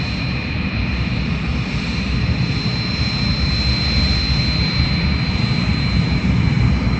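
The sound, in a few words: U.S. Air Force weather plane engines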